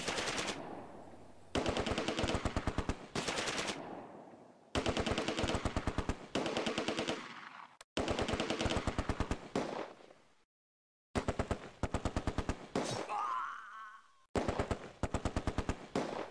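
A Vickers machine gun fires in the Close Combat: A Bridge Too Far game at Arnhem. It lets off repeated rapid bursts of crisp shots, each lasting a second or two, separated by short pauses and one longer silence.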